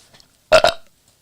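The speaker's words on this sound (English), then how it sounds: "There's always a belch at the end, isn't there?" A single short, loud belch erupts in a quiet studio during a football fans' talk show, a two-part guttural burp over near silence.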